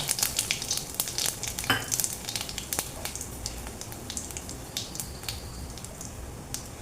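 Whole cumin seeds and bay leaves sizzle hard in hot oil, a dense, steady frying hiss scattered with sharp crackles and pops, close and loud with no voices.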